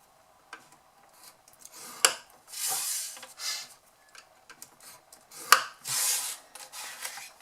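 Card strips for a handbag being scored, a series of short rasping scrapes in separate bursts with brief ticks between them, close and fairly quiet, with no talking.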